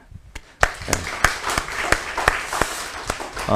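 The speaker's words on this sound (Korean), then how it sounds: "우리 한번 인사하시고 박수하실래요?" A church congregation claps in a sparse, uneven burst of about eight or nine distinct claps, close and fairly loud, with quiet room tone between them.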